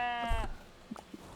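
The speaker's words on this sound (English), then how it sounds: "forget to pet the sheep once in a while" A sheep in the video game Tiny Glade gives a single clear, wavering bleat, close and distinct, followed by a few soft clicks and a short quiet pause.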